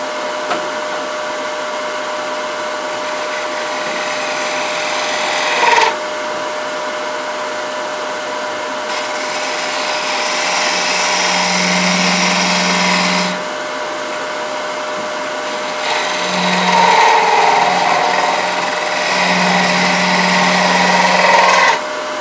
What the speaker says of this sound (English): I'm going to go ahead and shape the smaller portion of the spindle and get it to looking something like I want it to